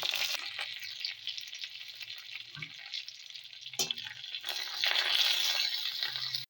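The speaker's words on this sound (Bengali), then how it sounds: "সর্ষেগুলো ভালো করে ফুটে উঠতে আর মশলাগুলো সব ভালো করে ভাজা হতে" Mustard seeds, panch phoron, a dried chilli and curry leaves crackle and spit in hot oil with a steady sizzling hiss that swells louder toward the end, punctuated by a couple of sharp pops.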